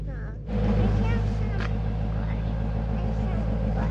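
A Whipple-supercharged Shelby GT350 roars into a tire burnout, its engine jumping to a loud, sustained droning rumble after a brief quieter moment, with a voice heard over it.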